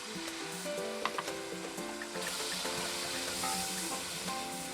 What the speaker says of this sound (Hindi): इसमें थोड़ा सा मैं पानी डालती हूँ।